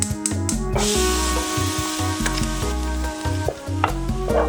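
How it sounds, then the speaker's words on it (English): Pork sizzling loudly in an oiled frying pan, a steady close-up hiss and crackle with occasional stirring clatter and a brief dip in the frying noise. "I'm going to cook the pork separately from the vegetables at first, so that's why I just greased up 2 different pans."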